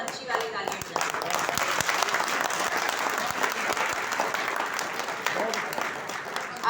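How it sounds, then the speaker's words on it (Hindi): An audience at a poetry gathering breaks into steady applause, many hands clapping evenly throughout, with a few distinct sharp claps near the front and some talk underneath. "बहुत अच्छी वाली तालियां बजाइए"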